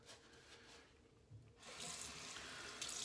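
A bathroom tap runs to wet a shaving brush, starting as a quiet trickle and then opening into a steady, louder hiss of flowing water close by.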